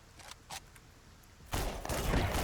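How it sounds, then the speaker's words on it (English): Grenades fired in the video game Menace land as a sudden broadband blast after a quiet stretch, turning into a sustained rumbling roar of explosions. "You haven't moved, so we fire grenades where you are."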